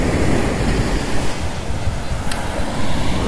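Surf rolls steadily onto the sandy, somewhat rocky shore of Khola Beach, a continuous broad wash of breaking waves with wind buffeting the microphone and no talk.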